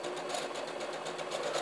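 A sewing machine zigzag stitching over a narrow tulle stem for a fabric bookmark. The needle chatters in a fast, even rhythm, close and continuous, with no voices.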